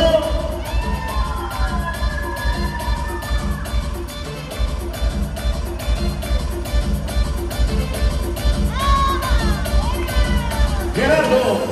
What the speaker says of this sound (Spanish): Y Kevin, ese fuerte aplauso.